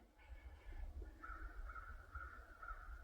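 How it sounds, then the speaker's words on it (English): Several crows caw repeatedly outdoors in a rhythmic series of harsh calls, moderately distant, over a low rumbling background with no talking. "that's just all the crows right now"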